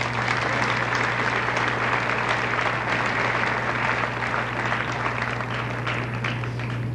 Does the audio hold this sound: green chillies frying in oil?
no